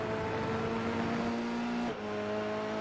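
A car engine revving and accelerating through a curve during a driving coaching session, a steady loud engine tone rising in pitch and then briefly dropping as the throttle lifts near the end.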